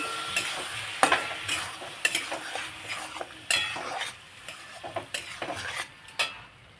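Raw prawn fritters frying in a pan are stirred and turned, giving a rhythmic series of close clinks and scrapes over a soft background sizzle, with no voices.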